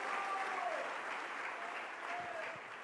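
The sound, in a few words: audience applause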